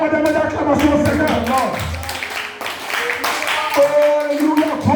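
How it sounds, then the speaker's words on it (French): Rhythmic hand clapping from a church congregation during worship, a steady beat of claps under singing and voices throughout. "Donnez-moi des mains d'acclamation au Seigneur."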